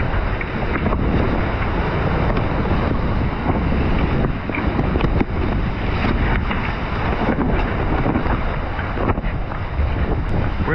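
Gale-force wind of 30 to 40 knots at Cape Horn roars over a racing sailboat driving at full speed through waves. Dense, continuous rushing noise with heavy wind buffeting on the microphone.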